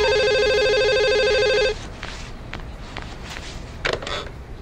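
A telephone rings with a steady electronic ringtone for under two seconds, loud and close, then cuts off, leaving quiet room noise with a couple of faint clicks and shuffles.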